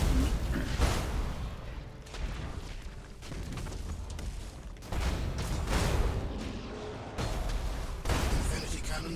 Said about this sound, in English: Oh no! The Infinity Cannons!